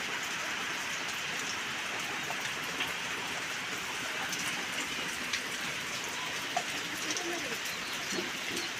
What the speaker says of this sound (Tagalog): Ulan na naman po.